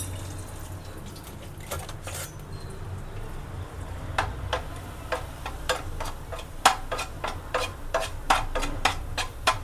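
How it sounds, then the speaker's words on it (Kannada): Gram flour fries in melted ghee over a medium flame, a soft continuous sizzle broken by a run of sharp spoon taps and scrapes against the pan that grow denser and louder toward the end. "ಮೀಡಿಯಮ್ ಫ್ಲೇಮಲ್ಲಿ ಇಟ್ಕೊಂಡು ಸ್ವಲ್ಪ ಫ್ರೈ ಮಾಡ್ಕೋಬೇಕು."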